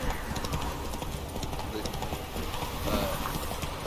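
Horse hooves clip-clop in The Witcher 3: Wild Hunt, a steady soft rhythm of hoofbeats under a dense, noisy game soundscape.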